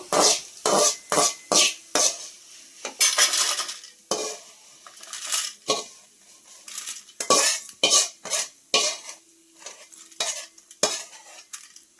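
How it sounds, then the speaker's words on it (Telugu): A metal spoon scoops fried ginger pieces out of a pan of oil, making repeated sharp scraping and clinking strokes in an uneven rhythm, close and fairly loud, with light sizzling between them. "అల్లం ముక్కలు కూడా వేగిపోయాయి కదా పక్కన తీసుకెళ్తాము"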